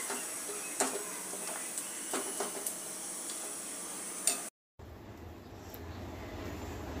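Brinjal bharit mixture sizzles softly in a pan on low flame, with scattered scraping clicks of stirring, faint and steady, broken by a brief gap before a duller, hissier stretch.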